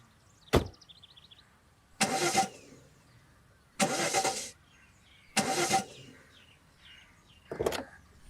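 A car engine cranks and fails to catch several times, four or five separate bursts of starter grinding, each lasting about half a second, with quiet pauses between them and no voices.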